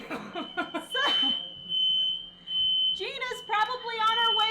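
A kitchen alarm that sounds like a smoke detector beeps to say Thanksgiving dinner is ready, a loud steady high-pitched tone lasting a few seconds. People talk and laugh over it.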